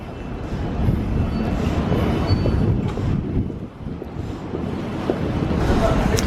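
A train pulls into Shepherd's Bush station in London, a steady broad rumble with wind buffeting the microphone throughout, loud and sustained with no distinct horn.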